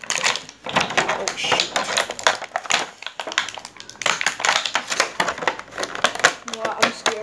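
Plastic packaging of a Marvel Legends Anti-Venom action figure being opened, with dense crinkling, crushing and tearing crackles running continuously and close up, under a person's brief spoken remark.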